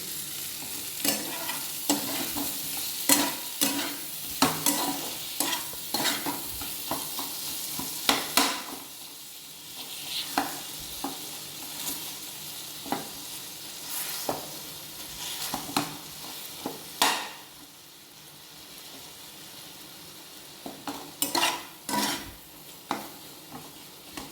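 Tomatoes cooking with a little salt in a pan for paneer butter masala, stirred with a utensil: a steady soft sizzle runs underneath while repeated scraping and clinking strokes come in irregular bursts, close and clear, with no talking.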